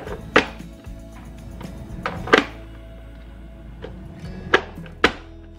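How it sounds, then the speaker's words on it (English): A handheld vegetable chopper cuts onions and peppers for freezer meals in a home kitchen, giving about five sharp, close thunks at uneven intervals over quiet background noise. "I am going to use this chopper and chop up the onions and the peppers"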